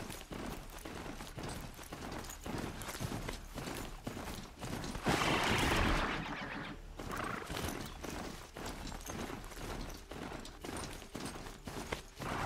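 A horse gallops through trees in the Horizon Zero Dawn video game, with steady rapid hoofbeats close by, a brief swell of rushing noise midway, and the galloping carrying on to the end.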